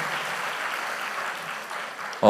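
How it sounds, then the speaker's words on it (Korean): A church camp audience applauds a choir in a soft, steady ripple of clapping heard from a distance, ending in a sudden louder burst as a voice begins. "우리 수원 구역의 합창단에게 큰 박수 부탁드립니다."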